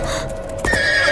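Horse neighing loudly with a sharp whinny burst near the middle, over steady clip-clopping hooves and a constant background hum, no talk.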